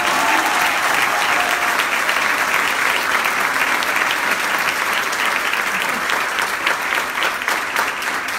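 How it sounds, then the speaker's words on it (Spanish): Audience applause at a formal ceremony, a continuous, dense crowd clapping that stays loud and even for over eight seconds without a break. "Un aplauso."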